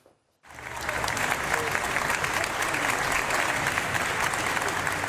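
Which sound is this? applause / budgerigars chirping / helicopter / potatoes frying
applause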